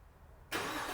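A white 2015 GMC Sierra 1500 SLT V8 fires up by remote start, a sudden engine catch halfway through that settles into a steady close idle after near silence.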